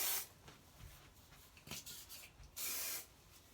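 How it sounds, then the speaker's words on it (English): Hairspray sprayed onto a hand: a few quiet hissing bursts, the longest near the end, among soft rubbing sounds in a quiet room. "I spray my hairspray on my hand and then just put it up in my hair where I did the teasing."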